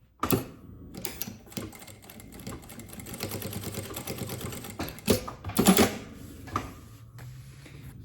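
A sewing machine stitches the seams of a bag made from milk cartons, giving a busy rapid mechanical clatter with short pauses and clicks, close and moderately loud.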